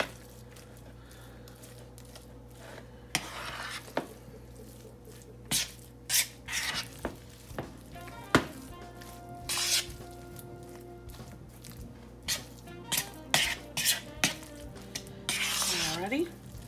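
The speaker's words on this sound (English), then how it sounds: "we're just going to try our best to mix all of this together" Cold casserole ingredients are stirred and mashed together in a bowl with a spoon, giving intermittent wet squishing and scraping strokes in short bursts, close up, with quiet pauses between.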